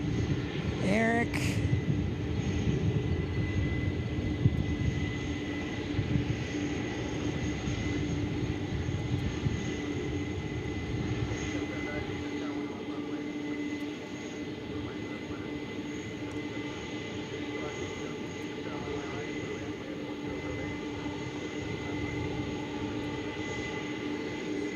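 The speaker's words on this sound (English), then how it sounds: "So there's the MD-11." A UPS MD-11 jet roars steadily at DFW airport, a loud sustained engine rumble with a high whine that persists across the whole stretch and eases slightly toward the end, with voices faintly in the background.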